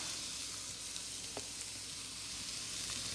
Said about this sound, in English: we're going to add in the meat so we can cook that